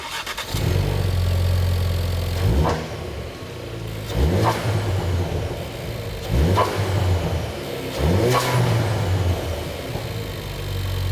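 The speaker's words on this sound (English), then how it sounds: "let's fire up our RS. We'll see how it sounds with our engine intake." A Ford Focus RS engine with an aftermarket cold air intake idles then revs sharply several times in a row, each burst rising and falling with a breathy intake roar, no talking.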